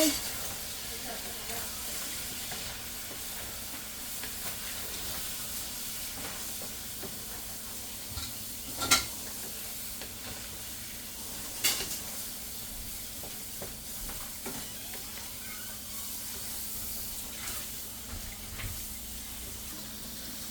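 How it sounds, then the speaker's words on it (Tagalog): String beans adobo simmering with vinegar in a pan is stirred, producing a soft continuous sizzle and steam hiss broken by a few occasional spoon knocks against the pan. "Haluin natin guys."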